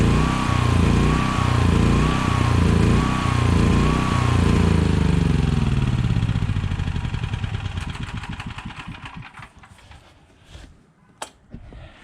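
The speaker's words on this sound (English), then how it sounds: "this is the run test for this year for the generator" A Honda EB6500X generator engine runs steadily and loudly at its yearly run test, its rhythmic throb holding for several seconds before it sputters, winds down and dies away into near silence.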